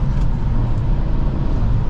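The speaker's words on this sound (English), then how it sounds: "Easy to rev match a downshift." A 2023 Acura Integra A-Spec with a manual gearbox gives a steady, close engine and exhaust drone under road noise during a rev-matched downshift, with no talk.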